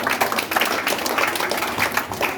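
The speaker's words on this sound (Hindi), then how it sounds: "ताली बजाए" A crowd claps at an outdoor village election gathering where ward candidates are introduced, giving a dense, steady patter of applause for a couple of seconds.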